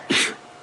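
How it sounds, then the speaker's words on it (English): A single sudden sneeze from a lioness, a short breathy burst up close, followed by quiet. "That was such a surprise sneeze, even I jumped a little bit."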